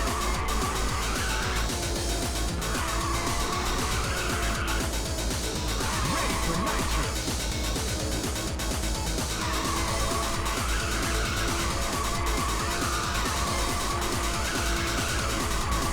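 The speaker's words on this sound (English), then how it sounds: "Listen to them tires screech" Continuous engine roar and repeated tire screeching as a car drifts in Ridge Racer on the PSP, the squeals rising and falling in waves over the steady motor drone without a break.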